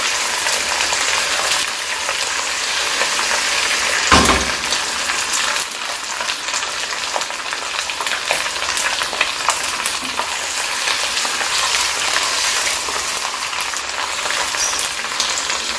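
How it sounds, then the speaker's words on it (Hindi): Garlic-ginger paste masala frying in a pan with dried onions for kadhi pakora, a steady loud sizzle broken by stirring scrapes throughout. "ताकि अच्छे तरीके से जो है ना मसाला भुन जाए।"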